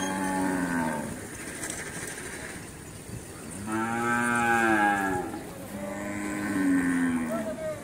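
Cattle at a busy cattle market near the railway in Hathazari low out in three long, loud moos, one after another, over a background murmur of the crowd.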